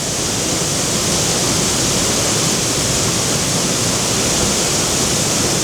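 Skutafoss waterfall in Iceland roars as a loud, steady, close wash of falling water, unbroken and alone with no voices for the whole stretch.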